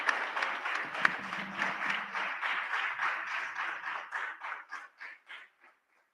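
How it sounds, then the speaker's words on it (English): A conference audience at a Hindu mandir applauds steadily, the clapping gradually thinning into a few scattered claps before fading to silence. "Can we get a big round of applause for our DFW Mandir"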